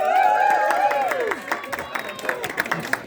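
An audience at an organic growers gathering claps for a singer, a loose patter of applause rising after a voice speaks over the start, then thinning into scattered claps.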